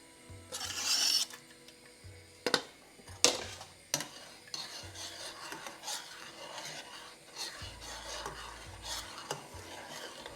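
Hot chocolate with melting chocolate and brown sugar is stirred in a pot over low heat, giving soft, uneven scraping and rubbing strokes with a few sharper knocks against the pot, quiet and close.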